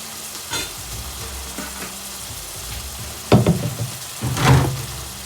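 Pasta tossed in a pan of sun-dried tomatoes over a medium-high stove, a steady low sizzle with a few sharp scraping clatters and a louder toss near the end.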